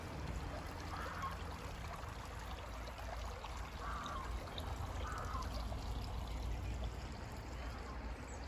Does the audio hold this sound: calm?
yes